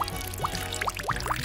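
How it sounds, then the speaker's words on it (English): Dirty water pours into a homemade bottle water filter packed with rocks and colored gravel, a steady splashing stream with a few brighter glugs and drips, close and continuous for a moment. "Lastly, I'll add the dirty water."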